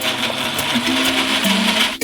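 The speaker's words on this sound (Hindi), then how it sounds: "और इसे ब्लेंडर में भेजा।" A blender whirs steadily, mixing watermelon, mint, milk and ice cream into a milkshake; a continuous close motor drone with slight pitch shifts runs unbroken, then stops abruptly at the end.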